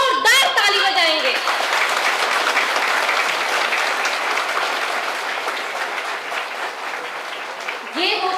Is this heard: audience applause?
yes